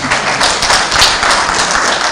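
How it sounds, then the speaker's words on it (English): An audience claps at a summer school closing day at INES Ruhengeri in Rwanda, giving a close, dense burst of applause that runs throughout. "Let's clap for them."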